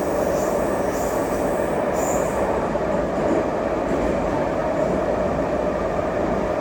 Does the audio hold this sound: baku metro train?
yes